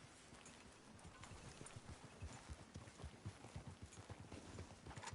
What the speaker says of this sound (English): Qué bonito es el caballo de Duch